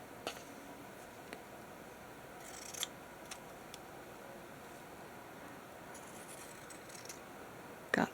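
Scissors snipping paper for a vintage-style twinchie collage: faint, sparse snips and paper rustles spread over a quiet room, with a louder burst of handling noise at the very end.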